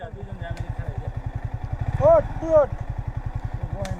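A motorcycle engine putters in a fast, even pulse while the bike is pushed by several people, steady and close, with voices talking over it.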